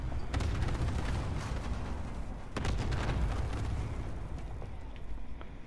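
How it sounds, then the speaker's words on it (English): Airstrike explosions in Call of Duty Modern Warfare hit as a dense barrage of heavy booms and crackling gunfire. Sharp blasts punch through the continuous rumble of battle. "That's the airstrike, right? The laser thing?"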